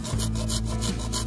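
A dull hand saw rasps through wood in steady back-and-forth strokes, a rough scraping rhythm about three strokes in just over a second, close and fairly loud, with no talk.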